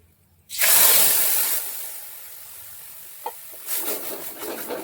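Spice paste for posto pabda dropped into hot oil in a pan just after frying fish, giving a sudden loud hissing sizzle that gradually settles, with a faint tap and renewed crackle toward the end.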